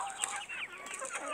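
Clucking from a hen among chickens, ducklings and young poultry in a farmyard, a busy run of short overlapping calls with other birds chattering close by, no talking.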